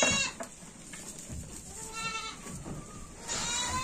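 Goat in a farm hay barn bleating in a few short calls over rustling, shuffling movement nearby, fairly close and moderately loud.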